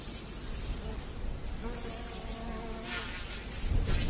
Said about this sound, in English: The once-a-year royal brood come above ground and begin to fly